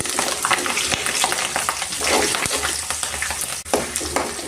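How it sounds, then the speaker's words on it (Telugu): Green chillies frying in hot oil for mango pulihora, a loud, steady crackling sizzle up close with occasional stirring strokes. "ఇప్పుడు పచ్చిమిర్చి వేసుకున్నాము"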